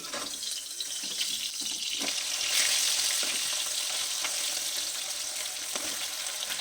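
Small fish frying in hot oil with spring onions, a steady bright sizzle that swells as the pieces are flipped over in the pan, with occasional soft utensil taps, close and continuous.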